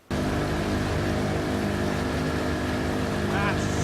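A steady, loud motorboat engine drone from the video game Battlefield: Bad Company runs throughout, starting abruptly, with water churn and a faint higher whine near the end.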